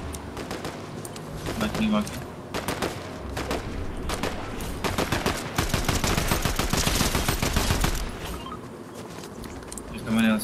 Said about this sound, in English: Gunshots, gunshots come.